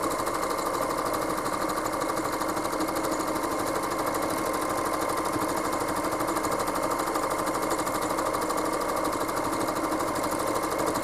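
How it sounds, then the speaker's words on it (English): Home sewing machine running flat out with the foot pedal fully pressed while stitching a quilt, a fast continuous mechanical whir and needle chatter, steady and close throughout. "put my foot pedal all the way down, and once the needle starts moving"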